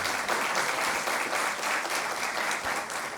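Steady, full applause from an audience at a lecture event in the Dominican Republic as a guest is called to the front, with dense clapping throughout and no voices on top.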